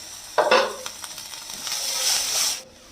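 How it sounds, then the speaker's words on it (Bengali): A lid comes off a cooking pot of vegetables and peas with a sharp metallic clank, followed by a soft hiss and sizzle of steaming food that fades out abruptly. "ঢাকনাটা খুলছি।"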